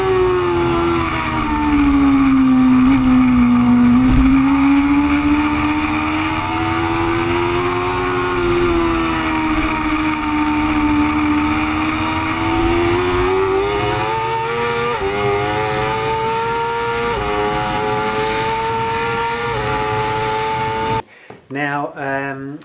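A BMW HP4 race motorcycle at a track test in Almeria, its engine droning loudly and steadily with smooth rising and falling pitch as it runs through gears, up close for most of the stretch.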